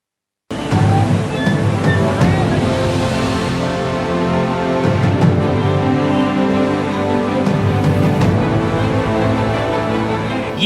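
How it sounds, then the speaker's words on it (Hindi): Floodwater rushing through flooded streets in Nashik, Maharashtra, after heavy monsoon rain, a loud, steady roar of churning water that fills the scene without pause. "जिले में सभी नदी नाले उफान पर हैं।"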